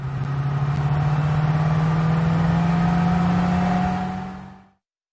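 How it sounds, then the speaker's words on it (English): Pickup truck engine sound effect from a vehicle puzzle game, a steady loud droning motor hum with a slight rise in revs, alone with no talk, fading out near the end. "pickup truck."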